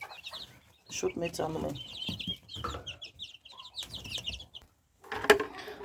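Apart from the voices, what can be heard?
hens clucking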